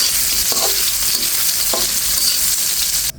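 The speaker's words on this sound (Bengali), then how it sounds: "তাই কিন্তু একটু উল্টে পাল্টে খুব সুন্দর করে নেড়ে নিচ্ছি।" Teasel gourd frying in oil in a pan, being turned and stirred, with steady close sizzling and two short scraping stirs, no speech, ending abruptly.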